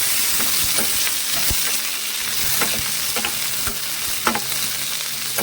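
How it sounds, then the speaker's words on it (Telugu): Steady sizzling of peanuts frying in a pan for a cucumber peanut chutney, with intermittent scraping and stirring clicks throughout, close and continuous, no voices. "బాగా వేగాలండి పల్లీలు గిన్నె"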